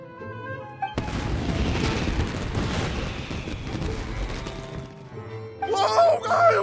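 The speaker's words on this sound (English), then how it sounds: "Yoimiya, this is turning into a bit of a fireworks display" Fireworks burst in Genshin Impact with a sudden loud crack, then several seconds of dense rumbling, crackling explosions over soft game music, which fade into chiming tones at the end.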